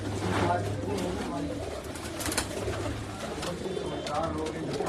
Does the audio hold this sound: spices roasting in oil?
no